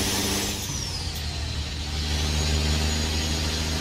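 A Cat 3406E diesel truck engine in American Truck Simulator idles as a steady low rumble with a faint whining tone above it, close and continuous with no talk.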